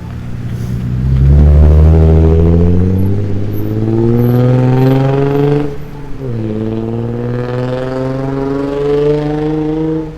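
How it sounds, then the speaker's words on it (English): A loud car that needs a muffler drives past on a city street in winter, its rough exhaust roar swelling up close, dipping briefly mid-pass, then rumbling on as it pulls away. "Somebody needs a muffler."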